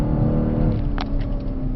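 Mercedes C63 AMG engine at full throttle, a loud steady low roar from inside the car with a brief sharper sound near the middle, no talking.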